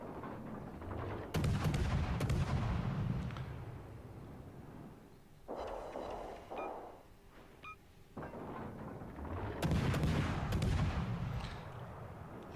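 Destroyer guns in a naval video game fire at an enemy ship in repeated deep booming salvos, each loud blast trailing into a rumble, with gaps between volleys.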